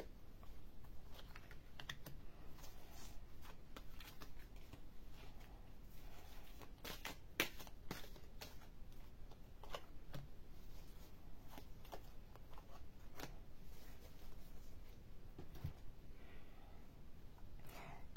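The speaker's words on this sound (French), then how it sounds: "Je vais recouvrir chaque carte avec une carte du tarot." Tarot cards laid out one by one over other cards for a Chinese zodiac Goat reading, giving soft, irregular taps and slides at close range over steady background noise, with no speech.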